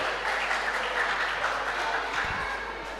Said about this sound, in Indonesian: Kita beri tepuk tangan untuk Amang Situa J. Siregar.